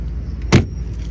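A single solid thunk of a 1972 Mercedes-Benz 280SE door shutting, short and close, with a faint mechanical click around it.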